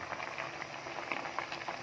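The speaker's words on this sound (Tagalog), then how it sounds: "kumulo na siya" Saba bananas boil in a pot of water, giving a steady, close bubbling and gurgling that stays even throughout with no voices over it.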